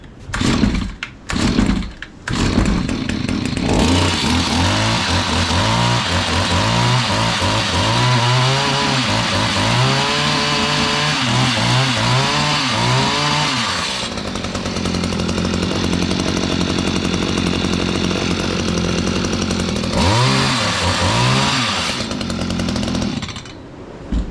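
A Stihl HS-45 gas hedge trimmer's small two-stroke engine sputters to life after a few pulls, then runs loud and close for about twenty seconds, revving and settling with a brief dip before the end.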